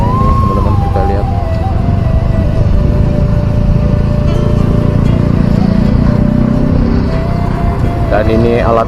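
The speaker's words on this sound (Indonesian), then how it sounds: "Ini cukup ramai sekali arus kendaraan, baik yang menuju Padang maupun yang arah Padang Panjang." Heavy traffic of cars and motorcycles flows along the road through Lembah Anai between Padang and Padang Panjang, a constant loud engine rumble with a drawn-out tonal whine above it.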